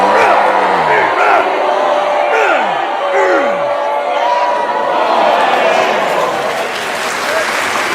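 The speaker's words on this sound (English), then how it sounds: "And this great WCEWF crowd here starts to cheer Lex." A wrestling crowd cheers and whoops loudly in an arena, a sustained roar of voices with shouts and applause and a few rising whistles, all heard without separate talk over it.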